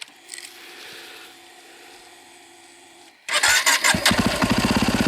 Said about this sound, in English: Let's see if the bike will start after a -6 degree night.